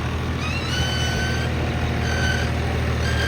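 A tractor stuck in mud revs hard, its engine roaring loud and steady with strained, rising whines as it struggles to pull free.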